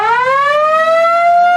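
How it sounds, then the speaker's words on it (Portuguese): A riot siren wails loud and near, one continuous rising tone climbing steadily in pitch and holding strong, with no voices. "Sirene de tumulto"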